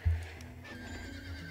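Brief horse neigh in the video game Star Stable Online, a short whinny at the start over a faint, low background of game ambience.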